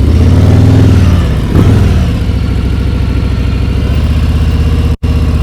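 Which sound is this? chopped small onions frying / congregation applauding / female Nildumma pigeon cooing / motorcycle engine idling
motorcycle engine idling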